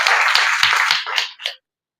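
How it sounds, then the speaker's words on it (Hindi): A brief burst of hand clapping from a small group, loud and close, tapering off into a few last claps before silence. "बहुत बहुत तालियां"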